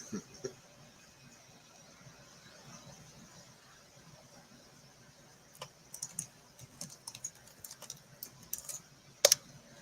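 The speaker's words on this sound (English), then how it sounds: "I know you can hear you typing and everything." Computer keyboard typing, scattered clicks and quick bursts of keystrokes growing busier toward the end, faint and close under a low background hum.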